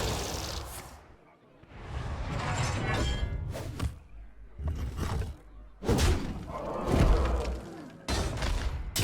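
Bomb explosions in the card game Hearthstone, a series of sharp bursts and booming crashes in irregular clusters, heavy and loud with shattering tails, separated by brief quieter gaps.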